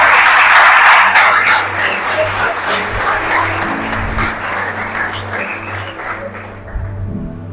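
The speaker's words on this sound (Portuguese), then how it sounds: "Você pode aplaudir o Senhor Jesus?" A church congregation applauds during an evening worship service, loud broad clapping at the start that eases to a steadier, softer level while low organ or keyboard chords sustain underneath.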